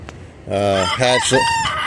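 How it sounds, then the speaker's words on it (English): A rooster crows loudly up close, a single drawn-out cock-a-doodle-doo in several rising and falling parts. "So we got a bunch of chickens in there right now."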